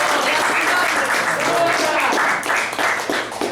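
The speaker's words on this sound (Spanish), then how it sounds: "Denle un aplauso grande" A church congregation breaks into loud, sustained applause close around, with voices and cheers mixed into the clapping.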